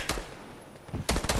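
Gunfire in a shooter video game: a sharp shot, then a quick cluster of loud bursts near the end, fairly close with no talk over it.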